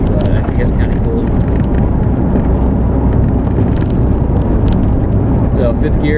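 A 1979 VW Rabbit cruises in fifth gear at roughly 35 to 40 mph, giving a loud, steady drone of engine and road noise that runs without a break from start to finish.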